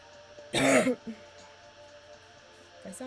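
A person gives one sharp, harsh cough and throat clear at close range, then falls quiet apart from faint small noises in a quiet room.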